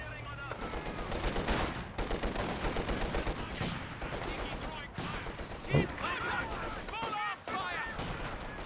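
Machine gun fire in a real-time strategy game battle, dense rapid bursts and scattered shots layered with other combat noise, continuous and fairly loud, with voices talking over the action.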